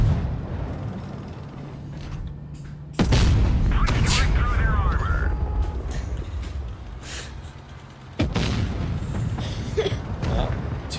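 Tank cannon shots in a tank video game, two loud booming blasts about five seconds apart, each a sharp onset followed by rumbling battle noise, with a speaker's voice running underneath.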